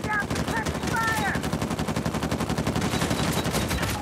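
Heavy automatic gunfire rattles continuously in an Uncharted 4 multiplayer match, dense rapid bursts close by, with voices calling out faintly underneath.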